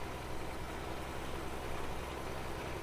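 A Big Bud tractor engine in a farming video game drones at a steady, heavy idle with a dense low rumble, constant and close throughout, with no talk.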